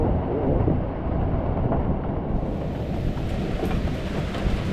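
Strong wind blows steadily at a beach with big waves, a continuous loud, broadband roar with gusty buffeting against the microphone, no speech, lasting throughout.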